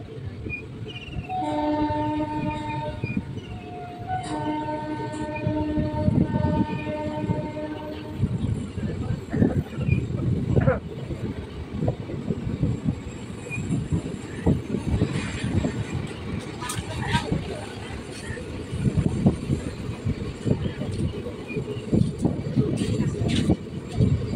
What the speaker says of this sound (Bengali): ট্রেন এখন কুর্মডাঙ্গা স্টেশন ছেড়ে বেরিয়ে যাচ্ছে।